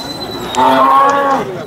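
A large cow gives a single loud, drawn-out moo, close by at the Modnimb cattle market in Maharashtra, lasting under a second.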